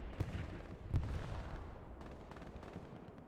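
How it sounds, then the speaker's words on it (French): Cannons exploding in the Hell Let Loose battlefield game, two heavy booms followed by rumbling distant gunfire and crackling blasts, moderately faint, without speech. "C'est des canons qui explosent, ils sont posés, ils explosent aussitôt."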